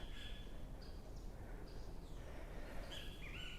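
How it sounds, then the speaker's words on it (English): Birds singing outdoors, several faint chirps and short whistled phrases scattered over steady background noise, distant and soft. "you can enjoy listening to the birds"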